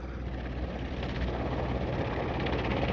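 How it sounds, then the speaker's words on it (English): A rescue helicopter lands on a mountain ridge, its rotors and engine making a steady, loud, close drone that holds without pause throughout. "It was a rescue helicopter."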